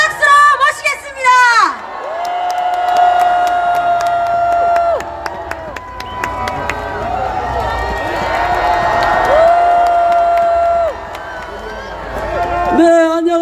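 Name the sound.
crowd applause and cheering at a rally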